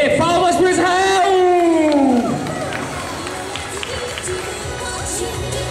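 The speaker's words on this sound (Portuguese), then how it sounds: "Aê, palmas pro Israel!" An audience at a winter cosplay parade applauds a cosplayer dressed as Kaito Kid. An announcer's voice comes first, then a steady rush of clapping and crowd noise takes over.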